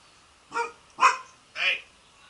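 A dog gives three separate barks in a garage during Nissan maintenance work, each one short and fairly close, with quiet gaps between them and no talk over them.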